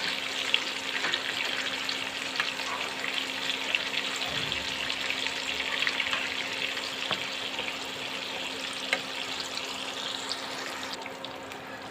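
Eggplant, eggs and potatoes fry in a pan with a steady, even sizzle that holds close and fairly loud throughout, while a faint low hum runs underneath.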